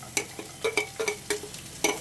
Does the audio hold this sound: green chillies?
yes